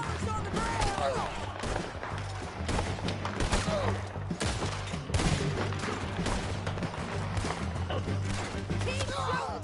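Gunfire in a Red Dead Redemption 2 shootout: repeated sharp shots and bursts crackling throughout, dense and close, with voices shouting over the battle.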